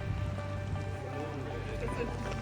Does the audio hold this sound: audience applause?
no